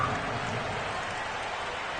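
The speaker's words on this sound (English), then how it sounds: "The rain set to continue as we are underway in the second half" Steady rain falls during a second-half EA Sports football video game, a dense, even hiss without breaks, with faint crowd-like rumble beneath.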